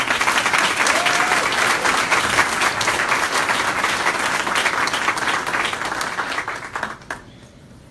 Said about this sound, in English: you really deserve the largest hand of applause